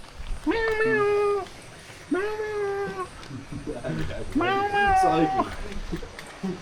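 A cat meows three times in drawn-out, rising calls outdoors on a trip to Lombok, with people talking softly in the background between and under the meows.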